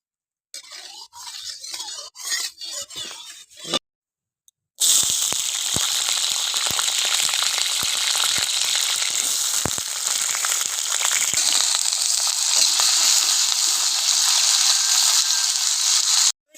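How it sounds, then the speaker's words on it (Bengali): Potatoes frying in mustard oil, a loud continuous crackling sizzle that starts abruptly after a few earlier clatters and a short silence, and then holds steady. "এবার সোয়াবিনের জন্য আমি আলুটা ভেজে নেব দিয়ে দেবো সর্ষের তেল"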